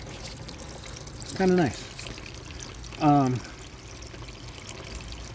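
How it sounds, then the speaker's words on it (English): A bathtub waterfall fixture pours water in a steady, close rush that fills the whole clip, while a voice speaks briefly twice over it. "I got the waterfall working"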